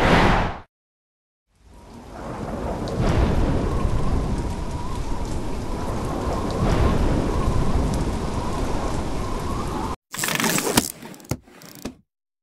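Steady rain with rolling thunder from a storm, a continuous loud downpour lasting about eight seconds with a low rumble swelling mid-way, followed by a few brief sharp noises near the end.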